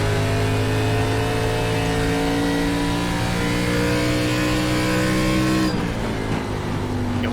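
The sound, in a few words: race car engine at Phoenix Raceway in iRacing video game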